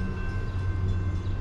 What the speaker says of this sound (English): CSX M406 is heading east.